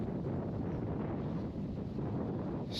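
Steady wind buffets the microphone throughout while out kayak fishing on open water, a continuous low rumbling roar with no talk.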